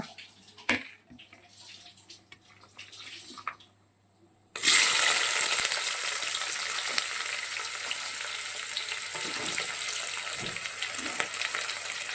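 Chopped large onion tipped into hot oil for vegetable biryani bursts into a loud, sustained, hissing sizzle. It follows a few seconds of quieter pan handling and holds steady to the end.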